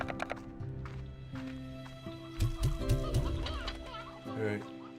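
Chickens clucking on a ranch in the video game Slime Rancher 2, a series of short, quick clucks close by, mixed with other game sounds and tones.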